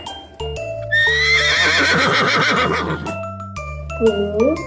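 A horse whinnies loudly and close for about two seconds, a shaky descending neigh over a repeating background beat, with hoof clip-clops around it and no talking.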